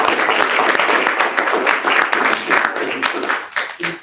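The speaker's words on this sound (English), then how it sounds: "Can we give a round of applause?" An audience applauds loudly and steadily, a dense burst of clapping that fades in the last moments.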